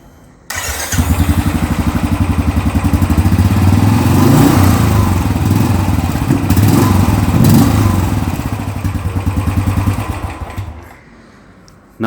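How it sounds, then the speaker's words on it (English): A Royal Enfield Classic 350 BS6 motorcycle with its stock exhaust cranks and fires up, then thumps and revs loudly at close range for about ten seconds before the engine cuts off. "Now let us just try switching on the vehicle."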